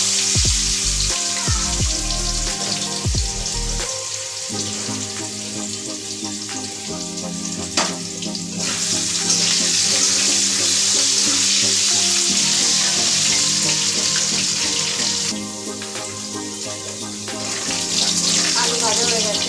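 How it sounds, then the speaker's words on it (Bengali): Long-cut, lightly salted potato strips fry in hot oil in a home kitchen while a fish curry is being prepared, giving a loud, continuous close sizzle with occasional stirring clatter. "এই তেলে আমি আলুটা ভেজে নেব, লম্বা লম্বা করে আলু কেটে রেখেছি,"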